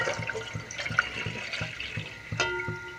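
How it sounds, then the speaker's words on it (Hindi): Milk poured into a pot of simmering walnut tea, a steady liquid splash and bubbling that runs close and moderate for the whole stretch, with a brief louder gush near the end. "इसमें हम डाल देंगे दूध।"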